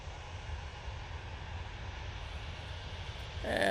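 Airplane taxiing along a taxiway at Manchester Airport, a steady distant engine rumble and hiss that swells louder in the final moment, heard alone without talk.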